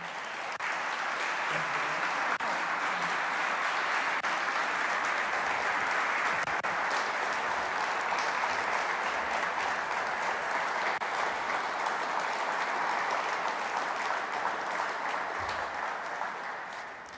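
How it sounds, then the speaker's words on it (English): Sustained applause from a crowd at the 2020 Governor's Awards Ceremony, steady and loud throughout, with clapping holding an even level for the whole stretch before tapering slightly at the end. "Let's give another round of applause to Jean."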